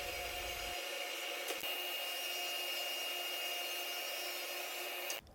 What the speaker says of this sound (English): Here I'm ripping down some 3/4 inch MDF to size